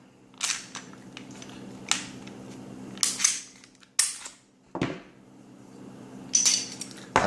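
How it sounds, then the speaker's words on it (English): A Smith & Wesson M&P 40 pistol with a 9mm threaded barrel is taken down: close, sharp metallic clicks, snaps and slide clacks at irregular intervals, with soft handling noise between and no talking. "when I take this gun down"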